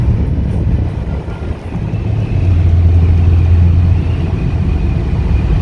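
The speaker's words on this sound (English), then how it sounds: "Accelerates really nice, feels really good." A 2017 Maserati Ghibli accelerating from the inside: steady low engine rumble with road and wind noise, a deeper drone rising midway and holding for a couple of seconds, no talking.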